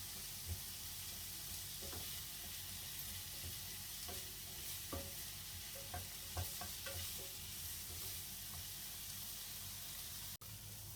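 Onions cooking in garlic-infused olive oil for a Maltese rabbit stew, a steady close sizzle and crackle running throughout, broken by occasional scrapes and clacks of stirring.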